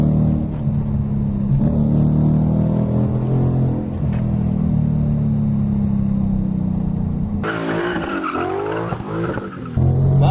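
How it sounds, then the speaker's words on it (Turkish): A Ford Mustang GT with a naturally aspirated engine revving toward 7000 rpm, a loud sustained roar whose pitch climbs steadily, then brief sharp rising bursts near the end as the revs swing, heard close and alone without talking. "7000 devire kadar Mustang devir çevirmeme izin veriyor."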